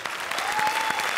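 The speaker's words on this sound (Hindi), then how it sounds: "आज मेरे शेखू का बर्थडे है, तालियां बजाओ" A comedy show's studio audience claps on cue for a birthday, giving a short, loud burst of many hands clapping close together for just over a second.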